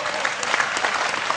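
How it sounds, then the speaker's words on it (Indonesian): Audience applause at an evening talk-show reunion event, a steady dense clatter of many hands clapping throughout the short stretch, fairly close and even in level. "Oke, tepuk tangan ya."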